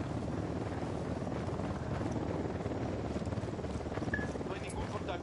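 Helicopters approach in the video game Ghost Recon Wildlands, a steady, dense rotor and engine rumble that fills the whole clip at an even, fairly loud level, with faint talk in the background.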